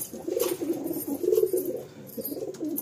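A Madrasi pigeon in a home loft coos in low, throaty repeated phrases, close and fairly loud, with a few short pauses between bursts.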